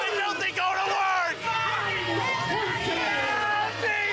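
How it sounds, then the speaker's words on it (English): A rowdy crowd at a women's wrestling championship match, a dense roar of cheering, shouting and babble that stays loud and continuous throughout, with individual whoops rising out of the steady hubbub. "We got a rowdy crowd tonight."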